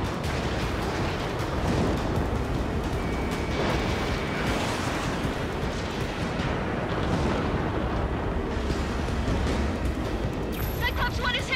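A missile striking a fighter jet in the Ace Combat 7 flight game, heard as a dense, continuous roar of engine noise and explosive rumble for several seconds, loud and steady, with brief radio-style chatter mixed in.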